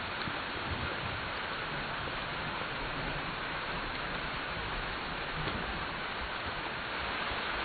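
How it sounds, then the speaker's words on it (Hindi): Steady, even rain hisses softly throughout, a constant wash of falling water with no voices. "बारिश कब रुकेगी?"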